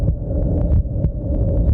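A heartbeat sound effect in a Tamil TV serial drama, low thudding beats repeating steadily and loudly over a continuous deep hum, with no talking.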